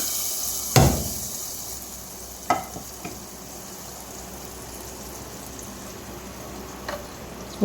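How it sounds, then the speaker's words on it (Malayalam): Roasted cashews and raisins tipped into a pot of simmering payasam, with a sharp clatter as they drop in and a few later knocks of a spoon against the vessel over a low, steady bubbling hiss. "റോസ്റ്റ് ചെയ്ത അണ്ടിപ്പരിപ്പ് മുന്തിരികയും പായസത്തിലേക്ക് ഒഴിച്ചു കൊടുക്കാം"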